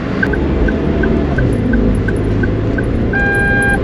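A 2016 Toyota Avanza E's seatbelt warning sounds a steady series of short, evenly spaced electronic chimes while driving slowly, over a loud engine and road rumble, ending in a longer sustained tone.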